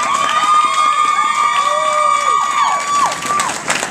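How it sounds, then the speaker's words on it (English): A crowd at a Miss I-500 pageant event cheers and whoops loudly, high shouts and whistles sliding over a bed of clapping, close and lively for several seconds. "Let's give her a round of applause for everything here."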